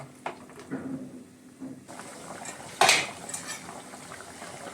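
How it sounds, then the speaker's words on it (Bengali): Bhujia is poured into potato curry in a pot: soft rustling and light clinks, then a sharp metallic clatter of a spoon against the pot, followed by quieter stirring. "এখন আমি দেখো ভুজিয়াগুলোকে ঢেলে দিচ্ছি।"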